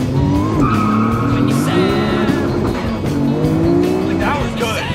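A roughly 1000 horsepower Nissan Skyline launches hard with all four tires spinning, producing a loud, sustained squeal with wavering pitch over engine roar that keeps going for about five seconds close by.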